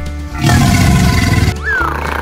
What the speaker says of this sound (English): Alligator